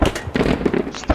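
Rapid loud thumping bursts from a BTR armored vehicle's cannon in Squad, firing in quick succession close by.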